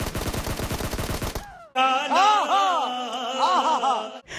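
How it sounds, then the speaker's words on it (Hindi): Rapid bursts of gunfire in a mobile battle-royale shooter game fire in a fast rattling string, then cut off into in-game groans and wailing tones from a downed enemy. "इस खोपड़ी में ही मैंने 2-4 गोलियां डाल दी"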